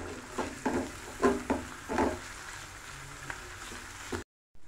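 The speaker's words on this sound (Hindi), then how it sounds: "ये 3 सब्ज़ मिर्च लेके इसको मैंने कट कर लिया है ये डाल देंगे और इसको भी 2 मिनट फ्राई करेंगे।" Onion and chopped green chilies frying in a pan for mirch pakoras, a soft sizzle with several sharp stirring scrapes in the first two seconds, then quieter frying before a brief cutoff.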